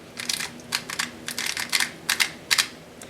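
A QiYi MS speedcube, set up and being turned, gives quick bursts of bright plastic clicking and clacking, several rapid turns in uneven clusters, close and fairly quiet with no talking.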